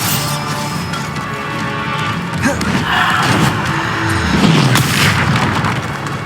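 Bombarda spell blasts in Hogwarts Legacy, deep booming explosions with crashing debris over a loud continuous combat rumble, a couple of heavier swells rising in the middle and later.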